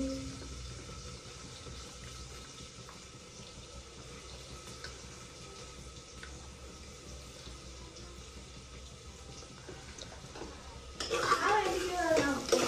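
Meat cooks in a pan with a low, faint sizzle and occasional stirring for most of the stretch, then a louder burst of scraping and clatter near the end, while voices talk in the background.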